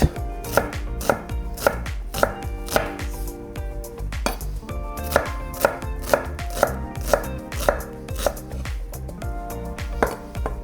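A knife dices red onion on a cutting board in quick, steady chops, loud and close, the regular knocks carrying on for the whole stretch with no talking.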